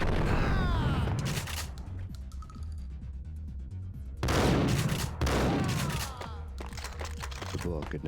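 Heavy gunfire roars through the action video game Max Payne in loud clustered bursts of shots with booming tails, separated by a quieter stretch, with voices briefly heard between volleys.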